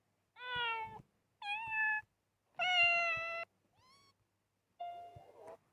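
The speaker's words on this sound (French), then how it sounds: "Son de chat, quand même." A cat meows five times in a row, mostly clear and close, with short gaps between the calls and the fourth call noticeably fainter.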